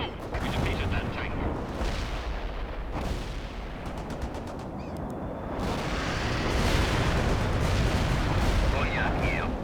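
Napalm air strike explosions in World in Conflict rumble heavily and continuously, with crackling bursts and a swelling roar that grows louder toward the end.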